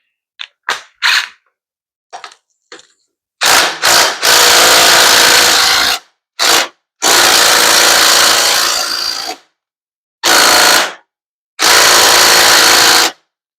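A power impact gun working on the wheel spindle of a Benelli BN125 motorcycle, loud rattling bursts of hammering, short taps at first and then several long sustained runs separated by silence, with no talk.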